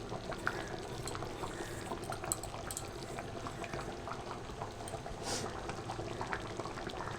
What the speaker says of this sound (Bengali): দেখুন খুব সুন্দর করে টকবক করে এখানটা ফুটছে